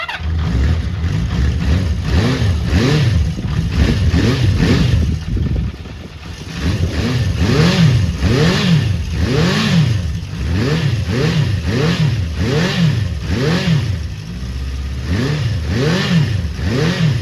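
A Honda CB400 Four classic motorcycle engine runs loud and close, revving repeatedly in steady rising-and-falling sweeps, with a brief dip around the middle, and no voices.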